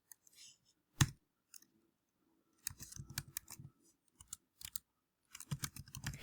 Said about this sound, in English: and we're going to type that in.